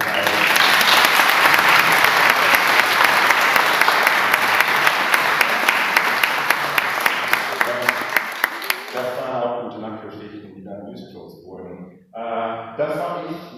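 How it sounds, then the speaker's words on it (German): A concert audience gives dense, sustained applause at an anniversary concert, loud and full for about nine seconds before thinning out as a single voice begins speaking. "lasst einen großen Applaus für die Zeit"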